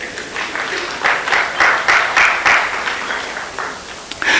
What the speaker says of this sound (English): Anyway, clap for yourselves